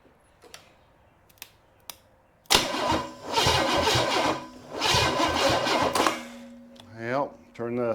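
A Chevy 454 big block V8 that sat unused for 20 years cranks briefly after a few clicks, then catches and runs roughly in loud surging bursts before stumbling, with a voice speaking near the end.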